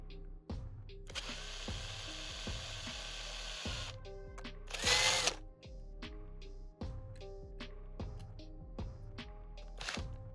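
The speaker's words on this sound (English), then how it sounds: "just kind of drill down as straight as you possibly can" A power drill whirs in short bursts with brief pauses between, fairly close, and a sharper grinding surge near the middle as it bites into the metal rivet of a Hot Wheels die-cast car.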